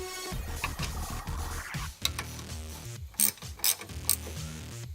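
A ratchet wrench clicks in short, uneven bursts of pawl ticks and metallic knocks as a bolt is turned to free a stuck brake rotor, fairly quiet and close with no talking.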